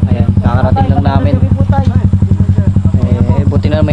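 Motorcycles idle and putter close by at a campsite parking spot, a steady low engine chug with clatter running throughout, while people talk over it.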